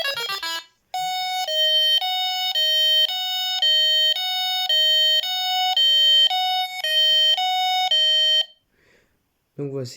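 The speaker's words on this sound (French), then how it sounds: "Ça fait une alarme pour me prévenir" A Delkim fishing bite detector's anti-theft alarm beeps loudly in a rapid two-tone pattern for several seconds, with brief speech before and after.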